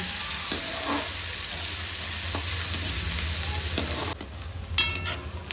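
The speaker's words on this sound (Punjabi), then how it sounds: "ਪਿਆਜ਼ ਆਪਣੇ ਭੁੱਜ ਗਏ ਇਹਨਾਂ ਨੂੰ ਜ਼ਿਆਦਾ ਨਹੀਂ ਭੁੰਨਣਾ" Onions frying to golden brown in a pan for baingan bharta, a dense loud sizzle with a few stirring scrapes that drops off abruptly near the end, leaving faint clinks.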